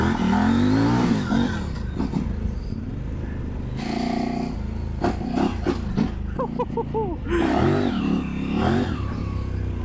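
A Kove 800X Rally motorcycle engine revs and roars while riding and drifting on loose ground, rising and falling with throttle changes, loud and close, with a person talking over it at times.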